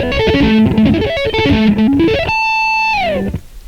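An electric guitar with distortion plays a fast rising and falling arpeggio, then holds a sustained chord that bends downward and fades, close and alone without talk.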